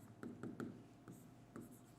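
Marker or chalk writing on a board during a geometry lesson: a series of short scratchy strokes in quick bursts, faint and close, with no voice over them.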